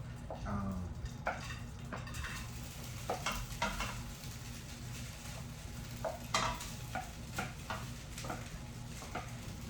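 Rice stir-frying in a pan with peppers and onions, soft sizzle under repeated scraping and clinking of a utensil against the pan, quiet and close with an irregular stirring rhythm.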